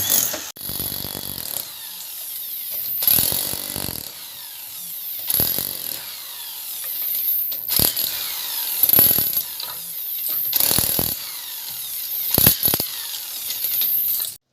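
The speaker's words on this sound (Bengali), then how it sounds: "এইখানে ড্রিল মেশিন দিয়ে গ্রুপ করা হচ্ছে টিনটাকে সাপোর্ট দিয়ে রাখার জন্য" A drill machine boring into tin roof sheets at a house roofing job, loud bursts of whirring drilling repeating every second or two, separated by short pauses.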